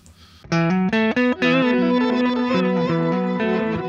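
An electric guitar played through the Neural DSP Archetype Petrucci plugin with a reverse effect gives a few swelling, distorted chords and notes that bloom and sustain, loud and alone.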